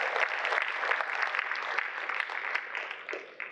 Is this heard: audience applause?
yes